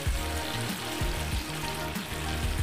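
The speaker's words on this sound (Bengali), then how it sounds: "এই পর্যায়ে আমি দিয়ে দেব ভেজে রাখা কাঁকরোল আর আলুটা" Fried teasel gourd and potato pieces sizzling in a pan of cooked-down spiced oil, a loud continuous crackling fry with low rumbling clatters as the vegetables are stirred, close up and without voices.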